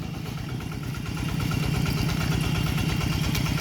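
A small single-cylinder two-wheel tractor engine chugs steadily nearby, its rapid even putter growing slightly louder partway through.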